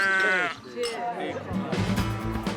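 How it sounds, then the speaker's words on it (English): Freshly shorn sheep bleat loudly and close by in the countryside in summer, with a wavering call first and a few shorter bleats following, over some background talk. "Those sheep are looking well, aren't they?"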